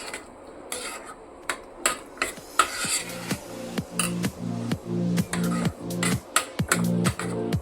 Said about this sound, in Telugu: సో అవి కూడా యాడ్ చేసేసి ఒకసారి బాగా మిక్స్ చేసేసుకుందాము.